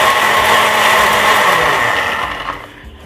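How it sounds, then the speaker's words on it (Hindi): A kitchen blender grinds roasted amla into powder with a loud, steady motor whine and gritty rattle that holds strong before easing down near the end, with no voices. "अब इस भुने हुए आंवले को जो है मैं ब्लेंडर में डालूंगी, और हम सिंपली इसको ब्लेंड करके इसका पाउडर बना लेंगे"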